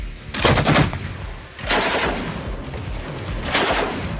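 A KPV heavy machine gun fires 14.5 mm anti-tank rounds in loud, close bursts of rapid booming shots, one short burst followed by longer sustained fire.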